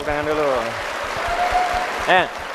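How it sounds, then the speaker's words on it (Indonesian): Applause from a university audience during an Islamic preacher's talk, a soft, hissing bed of clapping in the background while a voice speaks over it. "Tepuk tangan dulu."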